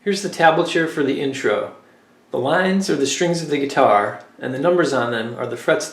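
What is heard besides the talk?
None of the usual background noises is heard.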